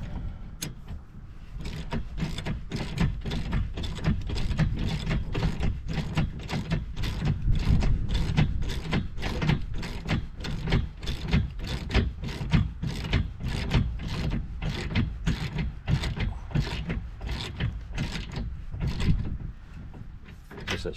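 Nylon locking nuts being tightened with a ratchet on a custom snowmobile trailer axle: a rapid, steady train of close, loud ratcheting clicks running almost continuously, with brief pauses between strokes.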